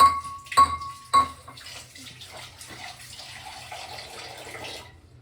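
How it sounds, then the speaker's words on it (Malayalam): Water poured into a pot of buttermilk curry, following a couple of short clinks, then a steady splashing pour that runs for several seconds, close by and fairly quiet, with no talking. "ഇത് കുറച്ച് വെള്ളം കൂടി ചേർക്കണം കേട്ടോ"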